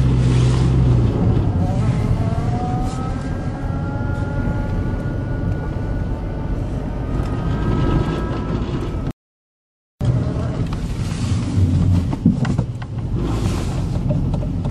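A gas 2.0 Volkswagen Jetta with a freshly replaced timing belt drives on a test run, its engine droning steadily with rising and falling gear tones through the cabin and a brief dropout partway through.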